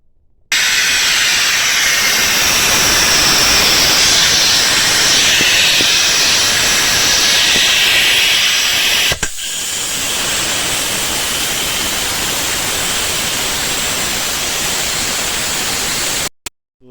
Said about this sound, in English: we're going to repair a Senco M2 that is leaking air and does not fire